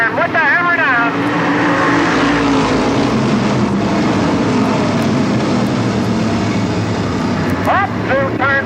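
Race cars roaring off the fourth turn at a 1984 race start behind a Dodge pace car, a loud, continuous engine drone with rising pitch sweeps at the beginning and end, under crowd noise.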